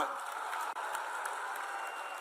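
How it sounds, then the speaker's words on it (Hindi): Dense, continuous applause from a large crowd at an Amit Shah election rally in Onda, Bengal, a steady roar of clapping heard from a distance. "तीनों के लिए जोरदार ताली बजाओ जरा"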